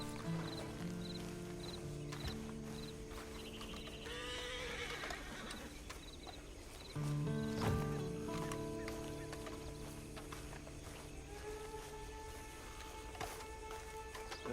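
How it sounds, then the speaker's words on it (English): A horse in the Red Dead Online video game whinnies and snorts while hooves clip-clop, mixed with ambient farmyard sounds like fowl, music-like tones and occasional clatter, fairly quiet throughout. "And you better get on this horse."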